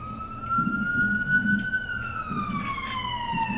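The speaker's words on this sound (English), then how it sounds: "wait for this ambulance to pass." An ambulance siren passes outside, a clear wailing tone that rises slowly then falls, heard at moderate distance over low background rumble.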